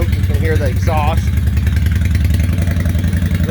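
A 2003 Honda Shadow 750 Spirit cruiser idles with the choke on just after starting: a close, loud, steady exhaust rumble with a slight crackle. Someone speaks briefly over it near the start.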